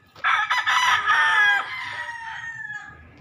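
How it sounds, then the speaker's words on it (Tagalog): Chickens crow loudly and close by at a backyard poultry coop, one long cock-a-doodle-doo call rising then trailing off over about three seconds, standing alone without talk. "Sa karon kini mga manok nangarol gini sila mga busing."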